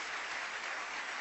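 A church congregation applauds the Lord, a dense, steady burst of many clapping hands filling the room without a break.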